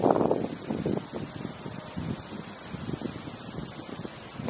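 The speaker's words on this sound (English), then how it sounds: "So I know that wind blowing." Wind blows outdoors, buffeting a microphone in uneven low gusts and rumbles that come and go, with no speech.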